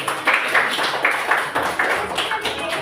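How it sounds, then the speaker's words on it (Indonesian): Children in a second-grade classroom clap together, a steady patter of many small hands at close range that carries evenly through the short stretch. "Oke, tepuk tangan untuk kita semua"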